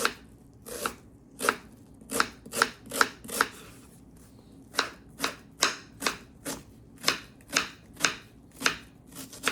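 A knife slices prawn curry ingredients very thinly on a cutting board, making a quick series of crisp, evenly spaced chops close up, with a few short pauses between runs and no voices.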